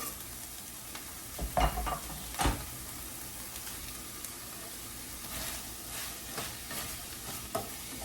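Ground turkey and diced onions fry quietly in a pan, a soft low sizzle broken by a few louder scraping stir sounds.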